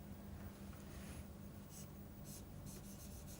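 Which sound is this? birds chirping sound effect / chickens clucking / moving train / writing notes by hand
writing notes by hand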